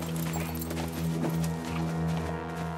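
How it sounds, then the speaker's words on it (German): Horse hooves clip-clopping with a neigh, set against a sustained musical score, loud and continuous for the short stretch. "Mein Pferd!"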